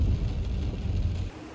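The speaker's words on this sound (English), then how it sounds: "It's raining" Rain falls steadily outdoors near a large event tent as a continuous broadband hiss, dropping abruptly in level toward the end.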